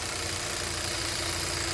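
Kia K7 with a 2.4 GDI Theta II engine idling after ignition coil and spark plug replacement, on a bored and overhauled engine with a rough-running, shaking fault; a steady, continuous close-up idle drone with no talk.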